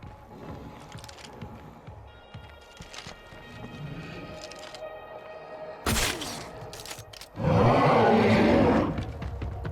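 A giant juggernaut monster in a video game lets out a huge roar near the end, loud and sustained for a couple of seconds, after quieter game sounds and a sharp burst.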